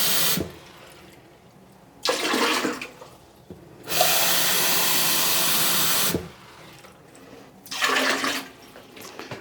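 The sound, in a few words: water poured into toilet bowl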